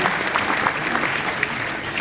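Steady applause from an audience at a thanksgiving gathering for the BAPS Swaminarayan Akshardham temple in Jodhpur, a dense even wash of many hands clapping with no break.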